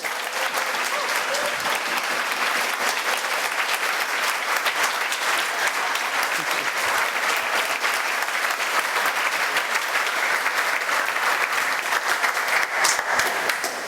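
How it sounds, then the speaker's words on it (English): Sustained, dense applause from a conference audience welcoming a speaker, steady and loud clapping that fills the whole stretch without a break. "Please, a huge round of applause for Dan."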